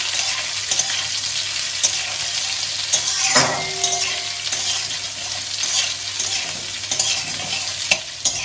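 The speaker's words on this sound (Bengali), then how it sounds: "এবার আমি উচ্ছেগুলো দিয়ে দিচ্ছি। আর এই উচ্ছেটাকে কিন্তু হাই ফ্লেমে আমাদের ভেজে নিতে হবে।" Bitter gourd frying in hot oil over a high flame, a steady broadband sizzle running throughout with scattered stirring clinks and scrapes, loud and close.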